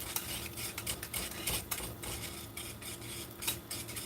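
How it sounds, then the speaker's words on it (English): Whisk clinking and scraping in a pan as butter melts, a rapid, uneven rhythm of light metallic taps close by, with a faint sizzle underneath and no talking. "I'm basically going to be whisking this until both A, all the butter is melted"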